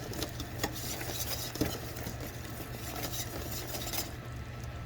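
Caramel sauce being stirred in a hot, smoking pan, with steady scraping and soft clinks of a utensil over a continuous low hum and faint sizzle, close and fairly quiet.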